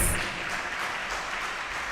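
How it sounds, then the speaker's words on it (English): An audience at a book launch in honour of a university academic gives a steady, dense round of applause, moderately loud and continuous throughout with no voices. "Members, that deserves a befitting hand clap"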